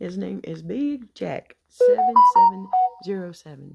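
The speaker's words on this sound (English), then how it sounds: "Excuse my phone." A phone ringtone plays a short melodic run of clear tones in the middle, between bits of someone talking close to the mic.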